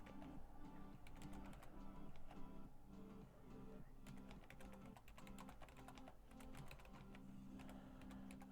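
Fingers type steadily on a new computer keyboard, a quick, close run of light clicking keystrokes with brief pauses and no speech.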